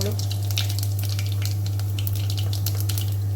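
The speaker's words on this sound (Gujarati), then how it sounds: "તો આપણું તેલ ગરમ થઈ ગયું છે, હવે આપણે વઘાર કરી લઈશું। રાઈ જીરું એડ કરી દઈશું" Mustard seeds, cumin and carom seeds crackling in hot oil for tempering, a dense bright sizzle with rapid pops, close and loud over a steady low hum.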